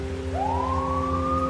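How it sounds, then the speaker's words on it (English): A police siren wails steadily, starting low and rising into a sustained high tone over a constant mechanical hum, close and loud with no voices. "the sound of sirens grew closer"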